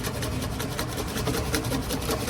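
A whisk beats béarnaise sauce in a bowl, making a fast, even, rhythmic scraping and clicking close by without pause or talk.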